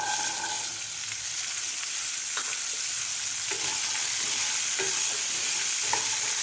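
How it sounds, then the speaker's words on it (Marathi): Green peas fry in a pan over medium gas and are stirred, giving a steady, even sizzle with soft scraping strokes throughout and no voices. "मटार आपल्याला व्यवस्थित फ्राय करून घ्यायचं आहे."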